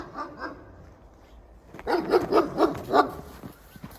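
A big dog barks five times in a steady series, loud and close, after a quieter stretch of outdoor noise in winter-morning woods, with a few faint earlier yelps.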